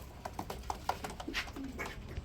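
Racer pigeons at a pigeon farm give several soft coos and short calls in an uneven sequence, close by against a steady background hum.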